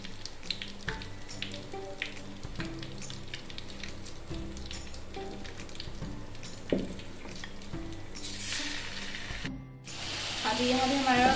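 Cinnamon, cloves, cumin and chicken fry in a pan, giving a steady soft sizzle with occasional clinks and scraping of stirring, and a louder hiss near the end.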